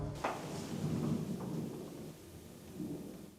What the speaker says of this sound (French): il y a l'orage qui se lève en plus là